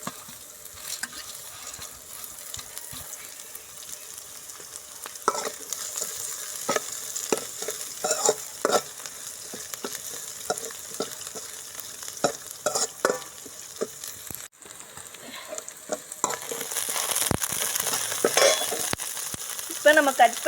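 Cinnamon and chilies frying with onions in a pan, a continuous sizzle with repeated spatula scrapes and stirring knocks, growing louder near the end.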